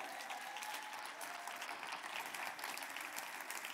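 A church congregation applauds during a sermon, producing a steady, dense wash of clapping hands that fills the room, sustained and moderately loud without pause.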